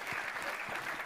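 An audience at a live comedy show breaks into loud, continuous applause, a dense wash of clapping filling the whole stretch with no pause.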